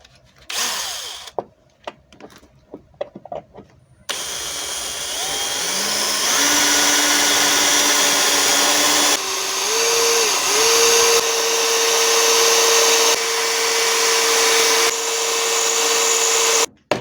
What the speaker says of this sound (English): Cordless drill and everything.